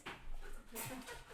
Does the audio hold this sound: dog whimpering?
yes